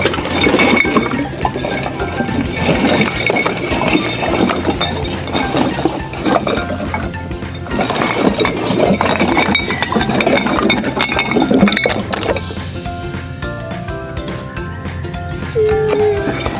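Many glass bottles clink and clatter continuously while being sorted by hand at a scrap collector's dump pile, dense overlapping clinks and rattles at close range, with brief quieter gaps.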